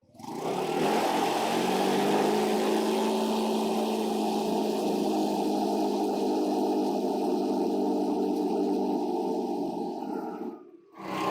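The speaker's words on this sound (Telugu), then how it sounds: "చాలా సేపటి నుంచి ఇంజిన్ రన్ అవుతుంది కాబట్టి వేడిగాలి వస్తుంది" A car engine idles steadily and fairly loud for about ten seconds, a continuous low drone, then cuts out abruptly near the end.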